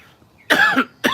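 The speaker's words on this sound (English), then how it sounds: "You cough like I do from smoking." A man's harsh smoker's cough comes in two close, loud bursts, the first longer and raspy, the second starting just after, heard alone with no talk.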